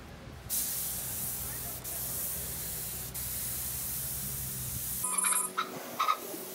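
A PVC biogas tank gets spray-painted with a steady, loud aerosol hiss that runs continuously for about four and a half seconds, then cuts off, leaving brief rattles and handling noises.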